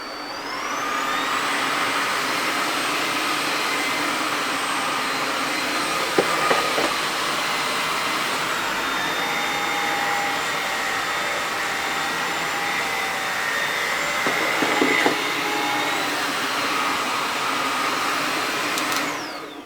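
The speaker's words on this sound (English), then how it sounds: "I just want to show you how it will vary the suction depending on the surface" A vacuum cleaner runs over wood floor and carpet, its loud whining motor steady, then shifting pitch as suction changes between surfaces, with brief bumps and surges around the switches.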